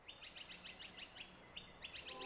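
Small birds chirp in a forest, trilling in quick repeated bursts against a soft, steady background of moving water or breeze, moderately distant and gentle.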